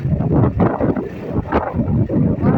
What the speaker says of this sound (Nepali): यहाँ चाहिँ कति धेरै सर्रा हावा आउँछ